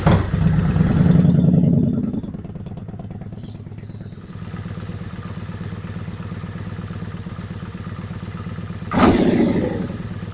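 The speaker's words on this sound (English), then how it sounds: "how many revolutions for the engine idle speed to slow down a little bit" Kawasaki Vulcan 750 V-twin engine idling steadily with its manual cam chain tensioners tightened, a close, even mechanical rumble with light clatter and a brief louder rev burst near the end.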